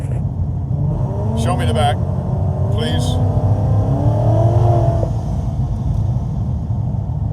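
A 1,000-horsepower car engine rumbles deep and steady at low speed on race day, a continuous close drone with people talking over it.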